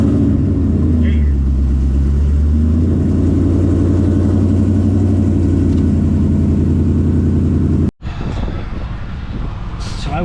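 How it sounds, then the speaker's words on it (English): A Ford Mustang engine runs through a cold start and idle, loud and close with a steady low rumble and slight rev fluctuations, cutting out briefly near the end before continuing with voices over it. "You thought I was gonna tease you, not give you a cold start?"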